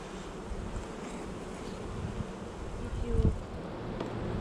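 Honey bees buzz around an open beehive outdoors, a dense low drone mixed with wind rumble, swelling briefly near the end, with no clear talk.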